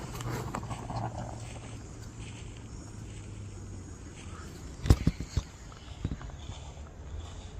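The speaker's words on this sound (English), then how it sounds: "Again, footsteps, this time closer." Footsteps crunch in the woods amid a faint insect and cricket hum, a few distinct sharp steps landing close in a short uneven cluster, then a couple more after a pause.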